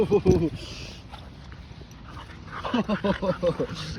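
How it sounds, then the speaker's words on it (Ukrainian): A puppy makes small whimpering yips and snuffles close by, mixed with background talking. "як собака гуляє. Такий веселий."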